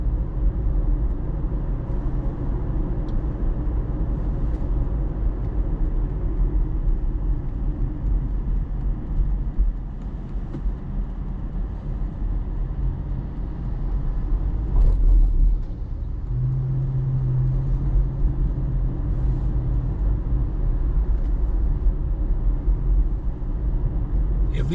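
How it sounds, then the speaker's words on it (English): A car driving around the outer streets of Ybor City, Florida, with a steady engine and road rumble heard from inside the cabin, continuous and fairly loud throughout. "as I'm driving around the outer perimeter of Ybor City"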